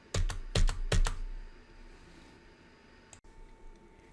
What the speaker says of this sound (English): press the Enter key on your keyboard 3 times